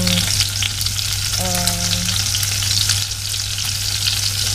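Sliced onions and ginger fry in rendered pork fat for pork adobo, giving a loud, continuous sizzle with crackling spatters, a few faint tonal beeps sounding early on.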